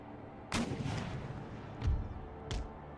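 Artillery booms in Empire Total War: three separate cannon blasts, fairly distant and muffled, spaced about a second apart over a low background rumble.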